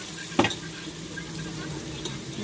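Sauce poured into chicken estopado cooking in a pan, with a sharp clatter and splash followed by a soft, steady, close sizzle and a faint later clink.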